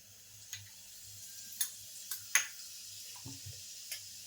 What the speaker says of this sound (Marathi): तर फोडणीला मी 1 चमचा जिरं टाकते